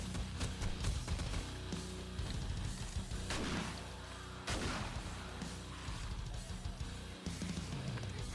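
An M60 machine gun fires during a horde night in the 7 Days To Die video game, sending out heavy bursts of rapid booming shots amid crashing impacts and dense game noise, with a brief cutoff midway.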